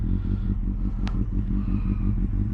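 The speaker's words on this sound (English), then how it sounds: "Yeah, that's pretty loud exhaust." A Kawasaki Z800 with a loud aftermarket exhaust idles and revs up close, its low, lumpy engine pulse rhythmically steady throughout with a brief metallic tick in the middle.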